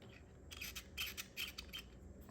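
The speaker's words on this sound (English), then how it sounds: "the stop is rubbing. inside of the knob." A knob stop rubbing inside the knob of a Flysky Noble RC transmitter, heard as a few quiet, close scraping rubs in short bursts with no talking.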